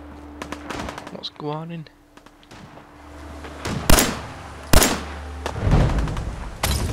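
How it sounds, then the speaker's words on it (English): Gunshots in Fallout 4, a few sharp loud bangs and bursts in the second half following a quieter opening where a person speaks briefly over game ambience. "Oh, I can hear shooting."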